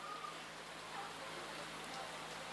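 Rain falling steadily, a soft, faint continuous patter and hiss with no distinct drops standing out.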